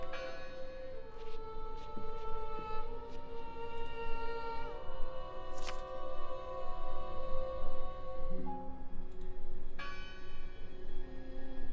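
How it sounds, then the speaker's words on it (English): A church bell tolls in the video game Draugen, sustained ringing tones overlapping and shifting in pitch over a soft background hum, clear and moderately distant. "The bell!"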